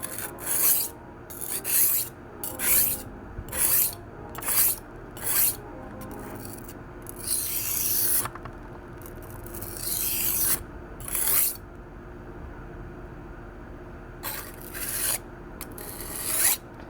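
A kitchen knife with a damaged edge and tip is sharpened freehand on a sharpening stone: close, rhythmic scraping strokes, about a dozen, each a short gritty rasp separated by brief pauses, with no talking.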